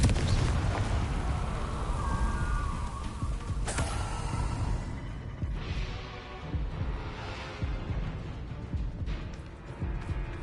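Confringo fire spells blast in a Hogwarts video game: booming explosive rumbles with a sharp crack partway through, then rolling, fading debris noise.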